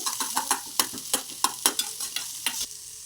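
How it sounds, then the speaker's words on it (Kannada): Mustard seeds and onion fry in hot oil with a steady sizzle while a utensil stirs and scrapes the pan in a quick run of sharp, close clinks. "ಸಾಸಿವೆ ಹಾಕೋತಾ ಇದ್ದಾರೆ ಈರುಳ್ಳಿ ಹಾಕೋತಾ ಇದ್ದಾರೆ ಅದನ್ನ ಫ್ರೈ ಮಾಡಿ"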